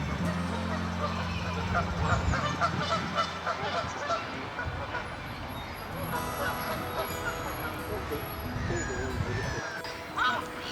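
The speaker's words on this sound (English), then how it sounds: "we come to a pair of ponds with a variety of ducks and geese." Geese honk and ducks call at a pair of ponds among a mixed waterfowl collection, a busy, steady chorus at moderate distance with a narrator's voice over it throughout.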